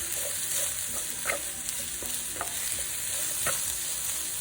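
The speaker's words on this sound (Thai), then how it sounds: "เมนูนี้เราจะใช้ไฟอ่อนผัดแล้วก็ทำไปเรื่อย ๆ เลยนะคะ" Pork belly is stir-fried over low heat with dried chili and salt, a steady close sizzle broken by periodic scraping and clinking strokes of the spatula against the pan, with no one talking.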